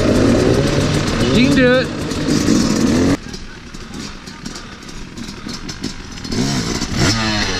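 Dirt bike engine on a trail ride at Twin Hills Cycle Ranch, revving loudly in a short throttle blip before dropping back, with people talking and cheering over it.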